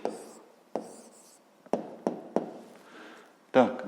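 A pen writes an answer by hand on paper, soft scratching strokes punctuated by several sharp taps as the pen meets the page, close and quiet in a still room.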